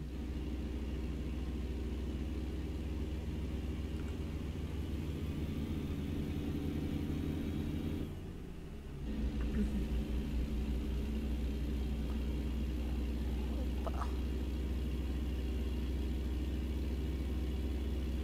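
A truck engine idles in American Truck Simulator, a steady low rumble holding throughout with a brief dip midway, close and alone without voices.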